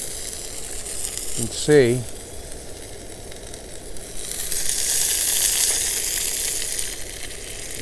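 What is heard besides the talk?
fish frying in a skillet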